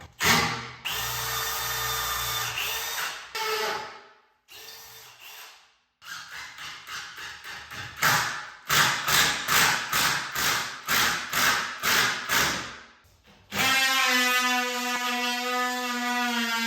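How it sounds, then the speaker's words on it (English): A power drill boring into concrete at an off-grid house build in the woods, running in repeated bursts: a long whine, a short stop-start stretch, then a series of rapid hammering pulses and a final sustained high run, close and loud. "I was hoping I could get away without having to drill into the concrete"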